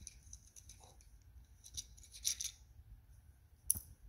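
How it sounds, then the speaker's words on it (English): A small piece of a vertical blind's wand being snipped off with scissors: quiet close-up snips and rubbing clicks, with a couple of sharper cuts, in a near-silent room with no talking. "now, cut that little piece off to separate it from this one"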